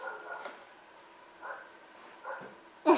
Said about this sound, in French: Oui, il y a des chiens qui aboient.